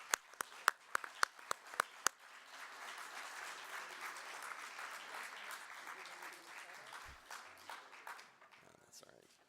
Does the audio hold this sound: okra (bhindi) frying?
no